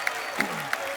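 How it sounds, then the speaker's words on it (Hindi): A studio audience at a comedy talk show claps in a short, dense burst that stays steady, with a few sharp accents across about a second. "जोरदार तालियां के लिए"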